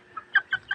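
A pet chicken in its coop gives three short, sharp clucks in quick succession, close and distinct against a quiet background.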